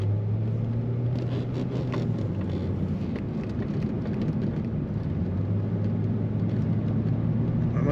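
A 2003 Chevrolet Corvette 50th Anniversary coupe driving along, its steady V8 engine drone heard from inside the cabin with road rumble and a slight pitch shift as speed changes while cornering.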